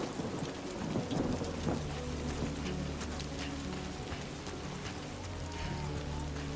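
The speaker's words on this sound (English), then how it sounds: "Got the pitter patter of the rain here on the dual sense as well." Rain and thunder in the video game Death Stranding 2, steady heavy rainfall with deep rolling thunder rumbling underneath, continuous and fairly loud, with no one talking.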